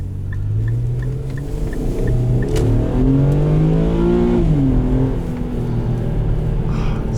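A 2010 Infiniti M35X engine revving hard to high RPM, a loud steady climbing drone that rises in pitch, dips briefly and climbs again, heard from inside the car with no talk.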